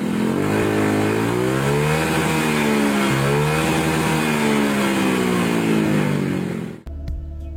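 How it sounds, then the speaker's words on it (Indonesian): A new Honda motorcycle with an aftermarket exhaust revs repeatedly up and down, loud and close, the engine note rising and falling in long sweeps before cutting off abruptly. "mungkin langsung ke tukang knalpot biar suaranya kayak gini nih"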